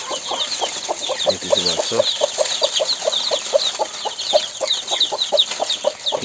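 Around fifty young chicks cheep and cluck while pecking at feed and water, a close, busy, rhythmic chorus of short peeps throughout, with a brief spoken phrase near the start.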